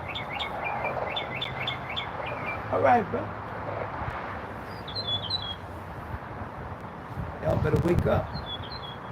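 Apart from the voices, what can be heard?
birds chirping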